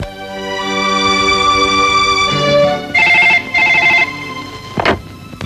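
A telephone rings in a Pakistani film scene. Electronic tones sound first, followed by two loud, close bursts of ringing and a short click-like sound at the end.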